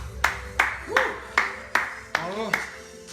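A small group claps together at the end of a bodyweight cardio workout, six sharp, evenly spaced claps close by, with a voice talking over them.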